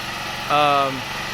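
A generator engine throttled down in its slow eco mode gives a steady idling drone, with a louder tonal hum swelling briefly at the midpoint before settling back, close to the microphone.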